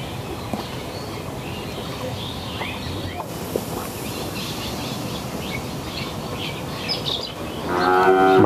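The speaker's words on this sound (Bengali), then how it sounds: "ফ্রিজিয়ান জাতের গাভী" A Friesian dairy cow at a cattle sale moos several times at a moderate distance over busy outdoor murmur, and a louder, drawn-out moo swells at the end.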